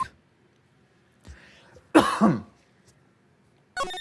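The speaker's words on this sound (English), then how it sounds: "That was a cough, actually" A couple of rough, throaty coughs in the video game Ace Attorney break through near silence, close and fairly loud, with a brief scrape of sound after them.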